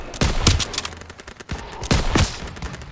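Bursts of gunfire ring out in Call of Duty: WWII: several loud, close rapid volleys and single cracks in an uneven rhythm, with brief gaps between bursts.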